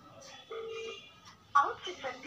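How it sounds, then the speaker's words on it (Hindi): A phone call's ringback tone sounds in short steady bursts, with a voice talking over and around it at close range. "रिंगिंग जा रही है गाइस"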